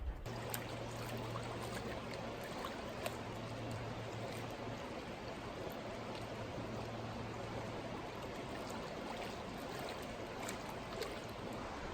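Fast-flowing high water of Wiconisco Creek, a steady broadband rushing roar with a constant close wash and no talk.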